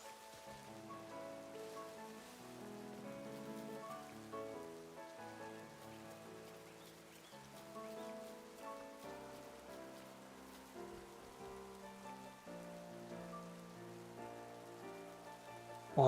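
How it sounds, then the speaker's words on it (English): Rain falls in the video game Pokémon Scarlet & Violet, a soft patter under a gentle melodic game soundtrack that carries steadily throughout at low volume. "Yay, rain, that really helps."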